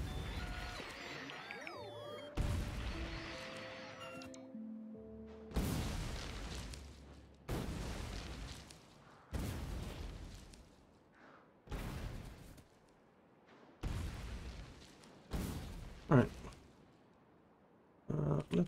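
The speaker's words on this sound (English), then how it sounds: "I think I'm gonna blow up a few trees here." Explosions from blowing up trees in the factory-building game Factorio, a series of about eight heavy booms spaced roughly two seconds apart, each decaying into a rumbling tail, with faint game tones early on.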